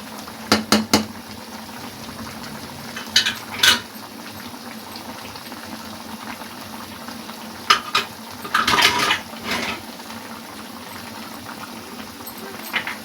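Ginger-garlic paste and spices go into a hot karahi of bubbling masala, with a low simmering crackle broken by sharp metal spoon clinks and scraping stirs against the pot.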